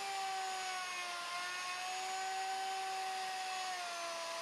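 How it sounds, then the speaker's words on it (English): Router flattening a wood surface, a steady high-pitched whine holding constant for several seconds, loud and close with no speech. "I made 2 complete passes with a router."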